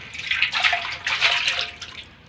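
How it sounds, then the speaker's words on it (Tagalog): Water splashes and runs while hands are rinsed outdoors beside a smoky fire, a close, uneven gushing in a few surging waves. "Mag-iinaw tayo ng kamay"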